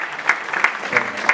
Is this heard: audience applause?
yes